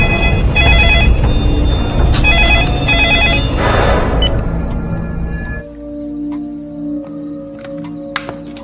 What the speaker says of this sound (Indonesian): telepon masih berdering meskipun kabelnya sudah dicabut